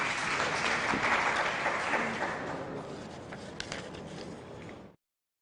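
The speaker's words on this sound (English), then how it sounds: "Another dose of clap," A conference audience at a One Health event for Horn of Africa universities applauds steadily, the clapping thinning gradually before cutting off abruptly.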